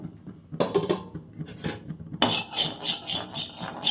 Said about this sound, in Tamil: அரிசியை மட்டும் மிதமான சூட்டில் கைவிடாமல் வறுக்கணும்